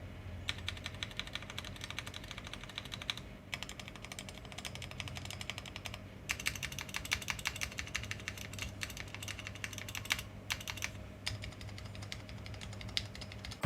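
Rapid typing on a Vortexseries x Cidoo GT65/V65 mechanical keyboard, dense clicky keystrokes in bursts with brief pauses, close and steady, over a low background hum.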